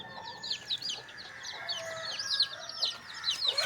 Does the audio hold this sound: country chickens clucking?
yes